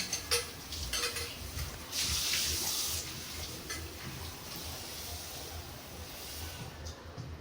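Potatoes are washed under running water in a kitchen sink, with splashing and gentle rubbing that carry on steadily at close range. A louder gush comes early on, and no one speaks.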